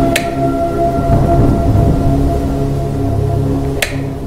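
Heavy rain pours steadily during a thunderstorm, with a sharp close crack at the start and another near the end over the constant wash of rainfall.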